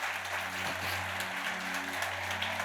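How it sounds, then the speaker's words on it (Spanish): A church congregation applauds: a dense, even wash of many hands clapping together, held steady at moderate loudness throughout, over a low electrical hum from the hall. "Si le va a aplaudir, denle un fuerte aplauso."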